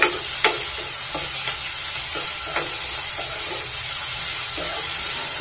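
Onions sautéing in a pan for a chickpea and potato curry, with a steady broadband sizzle throughout and a few sharp spoon scrapes and stirs cutting in at intervals, close and fairly loud.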